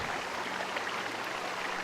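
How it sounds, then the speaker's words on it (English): Running water from a small stream carving into a mountainside in the game Pillars of Eternity, a steady soft broadband trickle and rush, quiet and continuous with no voices. "You hear running water and see a small stream that carves its way into the mountain."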